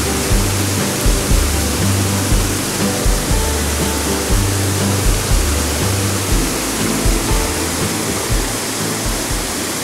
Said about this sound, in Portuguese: Será que tem queda d'água ali? Barulho forte de água.